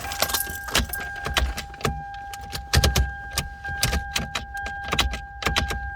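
A key jiggles and clicks against the gear shifter release of a Toyota Sienna, a fast irregular series of sharp metallic taps close up, with a steady electronic tone running underneath.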